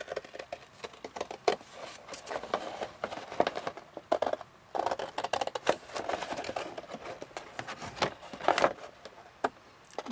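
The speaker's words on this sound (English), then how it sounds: "Just with my scissors." Short crisp snips and scrapes of scissors cutting through cardboard, close by and irregular, with no talking.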